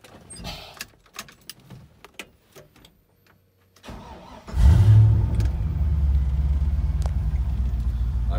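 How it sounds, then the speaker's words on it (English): After a few quiet clicks and knocks, a truck with a swapped Chevy 6.0 engine and a manual transmission cranks and fires up, then settles into a loud, steady rumbling idle close by. "Now if I just jump in the truck here to start it."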